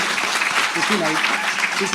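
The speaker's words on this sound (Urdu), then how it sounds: "میں آخر میں غزل سناؤں کے لیے تالیاں بجائیں" Audience clapping at an Urdu storytelling and poetry gathering in Abu Dhabi, a steady wash of applause from a close crowd lasting about two seconds, with a voice speaking over it partway through.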